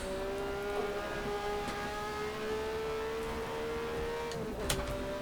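A Matra MS11 V12 race car engine in the rFactor 2 racing game at historic Monza, a steady moderately quiet drone holding pitch and rising slowly, with a brief shift-like blip near the end and no talk.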